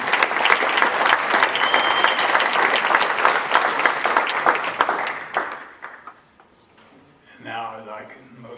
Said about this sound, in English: we all should give a round of applause